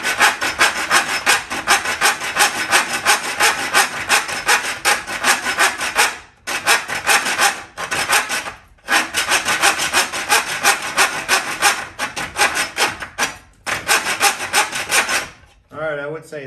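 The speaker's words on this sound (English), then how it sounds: "I would say that's sufficiently sawing the nail" Folding hand saw cutting through a nail embedded in wood, a loud, steady run of harsh rasping back-and-forth strokes with a few brief pauses, close up and with no talking.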